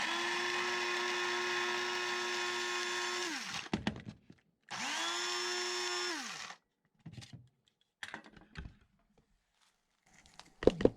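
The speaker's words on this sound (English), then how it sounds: "And I got to grind some coffee because I'm low on that." Electric coffee grinder grinding beans in two long steady whirring bursts, each winding down at the end, followed by short clattering and tapping sounds of handling the grinder.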